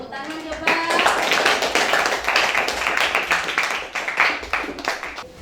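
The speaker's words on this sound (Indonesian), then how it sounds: "Tepuk tangan coba." Classroom of students clapping after a presentation, a dense, steady burst of many hands lasting several seconds, with voices mixed in.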